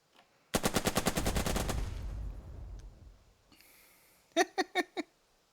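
Machine gun fire in the WWII strategy video game Burden of Command: a loud rapid burst of about a dozen shots for over a second, fading rumble, then a short separate burst of four distinct shots, no talk.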